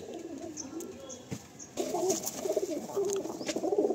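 Nazra Kaldom pigeons from Madras in a loft, giving several close, throaty coos in uneven bursts that grow denser in the second half.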